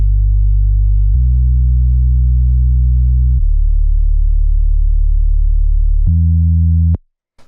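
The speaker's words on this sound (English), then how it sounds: "this is just 2 sine waves here with a bit of FM" Deep synthesized sub-bass tones, two sine waves with slight FM made in Ableton's Operator, play a few sustained notes in sequence, smooth and pure, ending abruptly in silence.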